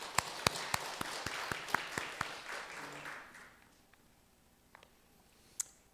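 Applause from a church congregation during a Sunday service, sharp claps for about three seconds that thin out and fade to near silence, with a stray clap at the end.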